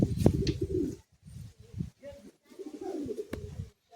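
Pigeons coo in low, throaty bursts at a crowded pigeon market in Uluberia, close and fairly loud, with short pauses between calls.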